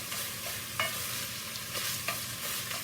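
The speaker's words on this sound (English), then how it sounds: "I just want to kind of brown it off just a little." Sausage browning in a pan for old-school cornbread dressing, a soft steady sizzle with a few spoon scrapes and stirring clinks, close and quiet.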